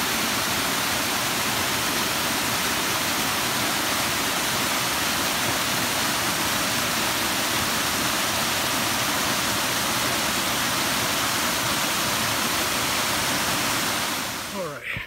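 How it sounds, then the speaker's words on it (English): A waterfall on the Appalachian Trail, swollen after several days of rain, roars as a loud, constant broadband rush of falling water that lasts the whole time, with nothing else standing out. "Take a look at that waterfall."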